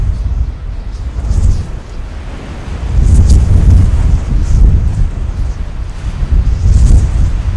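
Wind blows over desert sand dunes in strong, rumbling gusts that buffet the microphone, rising and falling in loudness.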